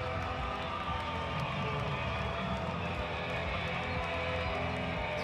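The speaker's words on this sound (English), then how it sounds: "This home crowd getting fired up, trying to motivate this defense to get off the field." A home crowd at a 2019 NMSU vs UNM college football game roars steadily, a dense, constant stadium rumble with scattered cheers and claps filling the whole stretch, no clear lulls.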